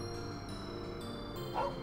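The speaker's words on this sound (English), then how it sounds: "He's a happy doggo." A dog in the video game The Legend of Heroes: Trails of Cold Steel 2 gives a single short, bright yip near the end, over a steady bed of game music.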